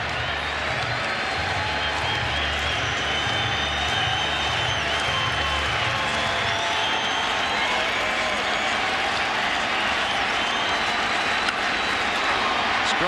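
Broad crowd roar from a packed baseball stadium of about 42,000 fans during the 9th inning of a Cubs at Cardinals game, sustained and steady throughout, with a low hum underneath.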